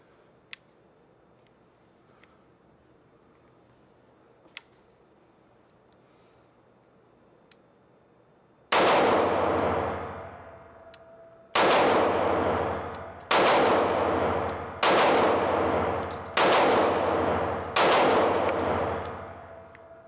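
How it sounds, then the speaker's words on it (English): Six loud, sharp firearm shots ring out in quick succession, each with a short ringing decay, after several seconds of near silence broken by faint ticks. "And this gun is not moving at all as I shoot it."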